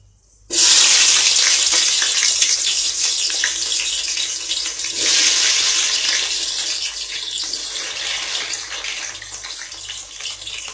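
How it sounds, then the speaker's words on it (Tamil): Onion frying in hot ghee bursts into a loud, close sizzle right after a brief quiet start, then hisses steadily with a slight swell midway and gradual easing. "ஆனியன் வந்து நல்லா ப்ரௌன் ஆகிற வரைக்கும் வதக்கணும்"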